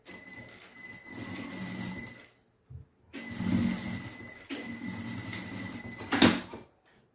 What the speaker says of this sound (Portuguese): É só eu pegar o forrinho e trazer aqui e fazer uma costurinha de segurança